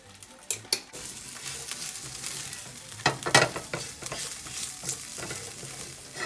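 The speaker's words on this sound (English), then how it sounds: "So you let that saute for about a minute or so" Salmon sautéing in a pan with salt, parsley flakes, garlic powder and red pepper flakes, a close, soft continuous sizzle broken by several sharp scrapes and taps of a utensil against the pan.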